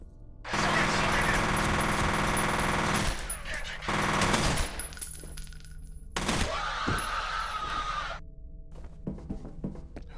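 Gunfire rattles in the video game F.E.A.R., loud sustained automatic bursts broken by short pauses, with thuds and clanks between them.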